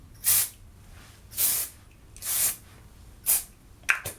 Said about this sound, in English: I'm just gonna spritz it down with this red hairspray